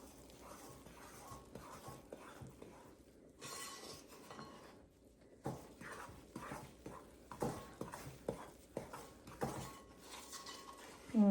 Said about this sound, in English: You just want to stir it until everything is nice and incorporated.